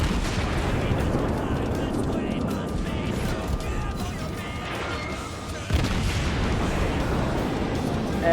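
Naval guns in the game World of Warships boom repeatedly amid a dense rumble of battle, heavy and continuous, with people talking over the action.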